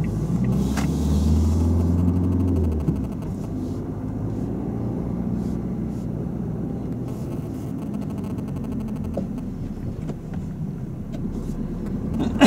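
A learner's car pulls away from a stop in first gear, its engine rumbling low and steady for a few seconds, then settling into a quieter hum of driving with faint road noise.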